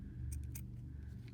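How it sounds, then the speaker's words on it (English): Scissors snip off excess ribbon in two quick, crisp cuts close by, heard over a low steady background hum without speech. "then I'm going to cut off the excess ribbon"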